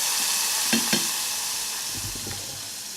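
King prawns frying in a pan, a steady broadband sizzle with two sharp utensil clicks early on and soft stirring scrapes later, close and alone without talk.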